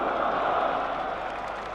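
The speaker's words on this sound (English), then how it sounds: "The crowd really getting behind Alex Tudor and Nasser Hussain." Spectators at a 1999 England versus New Zealand Test cricket match applaud, a broad, steady wash of clapping heard at moderate distance that tapers slightly toward the end.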